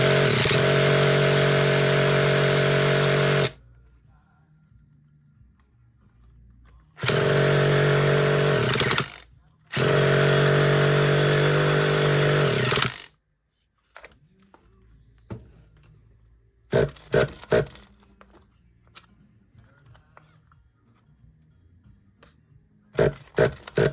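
A seized nitro-powered RC car engine, spun by a drill, buzzes loudly in a few harsh bursts of several seconds each, with quiet pauses and short sputters between attempts.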